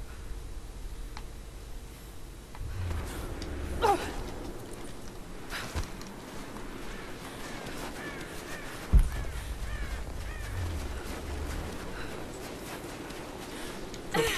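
A crow caws in the video game Rise of the Tomb Raider, giving a few scattered harsh calls over quiet ambient game sound, with sharper moments around the middle of the stretch.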